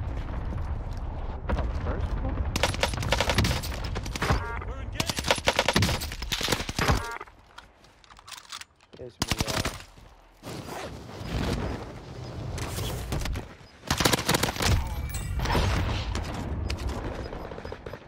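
An STG44 rifle fires repeated bursts in a Call of Duty match, loud close automatic gunfire broken by short pauses, with mechanical clicks and a voice talking between the bursts.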